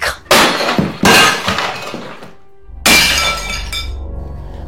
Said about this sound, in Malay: barang berat jatuh di luar rumah korang